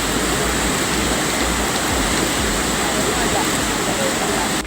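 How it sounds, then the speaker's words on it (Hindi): Floodwaters of the swollen Meenachil river surge against a bridge in a loud, continuous roar of rushing, crashing water with no break. "बार बार लहरों का सैलाब पुल के किनारे से टकरा रहा है"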